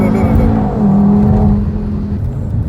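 An Audi TT RS launching hard, its engine note swelling loud and close in one continuous surge of acceleration heard from inside the car.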